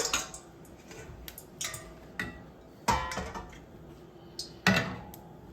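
Blanched French fries are tipped and shaken in a colander, producing scattered rattling clatters and light metallic knocks, a few louder bursts among quieter rustles, close and without talk.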